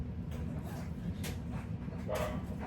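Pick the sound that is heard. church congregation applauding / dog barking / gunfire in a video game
dog barking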